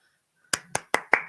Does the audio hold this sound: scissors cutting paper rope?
no